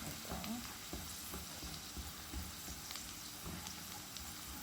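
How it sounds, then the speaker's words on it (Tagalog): Garlic sautéing in a hot pan for a mung bean (munggo) dish gives a steady, close sizzle and crackle with faint stirring scrapes, with no talk over it. "Lagyan na po natin ang ating garlic. Saute na po natin siya guys."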